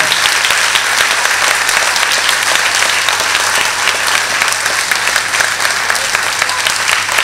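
Loud, dense applause from an audience at an abhang devotional music evening, continuous and even throughout with no pauses or voices on top.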